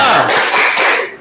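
A classroom of students at a madrasah performing a brief rhythmic spirit clap, several quick, close, loud claps in a patterned burst that fades at the end.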